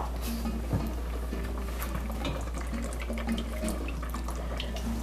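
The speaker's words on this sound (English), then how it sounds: "we're going to add the milk. And you need 2 cups of evaporated milk" Evaporated milk is poured into a pot for a Dominican dish, a faint, continuous liquid trickle over a low steady hum.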